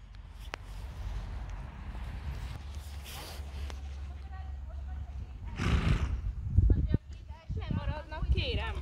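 A horse trots on a lunge line. Its hooves thud and snorts sound fairly close, while a person talks and calls commands over it.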